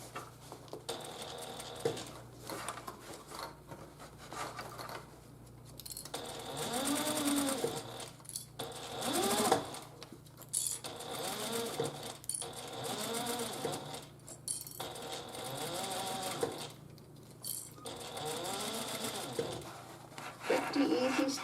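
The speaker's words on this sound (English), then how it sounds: "And we're just sewing the length." A sewing machine top-stitching along the length of a Paulette handbag with a top zipper. Bursts of steady whirring stitching run for several seconds at a time with short pauses between, and someone talks over it.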